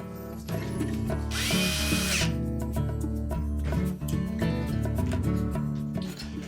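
A power driver whirs as it fastens the ground wire to the rear motor mount of a Frigidaire refrigerator's evaporator fan motor, a loud, close run with a brief high-pitched burst, then a varying motor hum.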